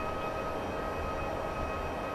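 NS DDZ double-deck electric train cruising in Train Simulator 2014, a constant loud cabin rumble with steady whining motor tones and no break in the noise.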